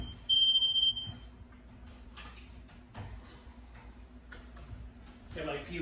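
A single loud, piercing smoke alarm beep sounds near the start while cooking Italian bread, followed by kitchen clatter and talking.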